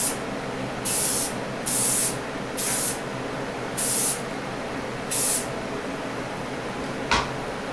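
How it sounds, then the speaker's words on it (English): Spray can hissing out a tack coat of paint on a Tootsie Toy Sinclair tanker being restored, six short bursts about a second each with pauses between, close and crisp, followed by a faint click near the end. "get our first coat of paint on, our tack coat"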